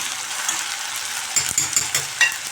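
Jackfruit seed curry with ginger-garlic paste, pepper and cumin being sautéed and stirred in a pan, with a steady close sizzle and a few scraping stir strokes toward the end.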